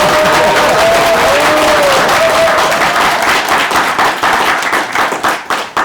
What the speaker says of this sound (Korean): 박수로 좀 보여주세요